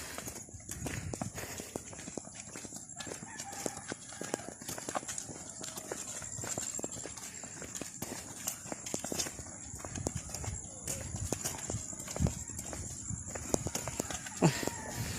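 Steady clip-clop of horse hooves on a hard road, a continuous walking rhythm with faint background noise and occasional voices.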